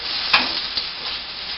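Sunshine burgers frying in a pan alongside fries, a steady close sizzle with a couple of brief clinks or stirring scrapes over the top.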